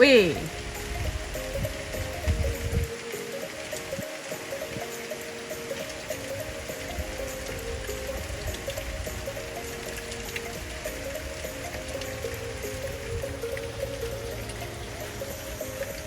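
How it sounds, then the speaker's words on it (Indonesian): Heavy rain pours down over a market, a steady broadband wash of water that stays loud and continuous throughout, with a brief heavier burst near the start. "Makin deras lagi hujannya."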